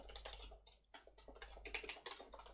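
Code being typed on a computer keyboard: quick, steady clusters of keystrokes with brief pauses, close and fairly quiet over a low background hum.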